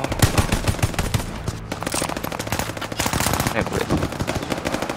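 Rapid automatic gunfire in the Call of Duty: Vanguard alpha video game, bursts of light, toy-like shots crackling loudly over a busy game mix, while someone speaks briefly.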